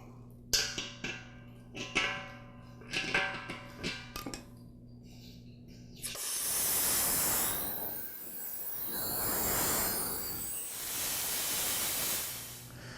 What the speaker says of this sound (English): So I'll open the drain valve on the bottom of the tank.